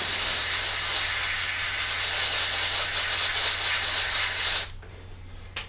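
Spray can respraying a model, a loud continuous close hiss held for several seconds and then cut off abruptly.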